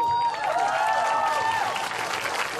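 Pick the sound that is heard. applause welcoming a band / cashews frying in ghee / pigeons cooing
applause welcoming a band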